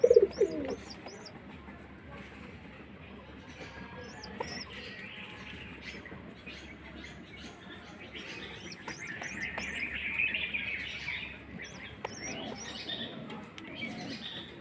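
Domestic pigeons coo softly around a ten-day-old pigeon chick whose head was pecked by other pigeons, with intermittent chirps and faint bird calls over a quiet background; no voices.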